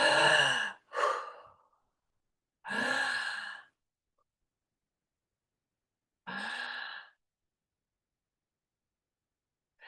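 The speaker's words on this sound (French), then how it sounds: "pourquoi elle respire si fort alors qu'on n'est pas en train de faire d'effort?" Several heavy, deep breaths come in separate bursts with long silent pauses between them, close and fairly quiet.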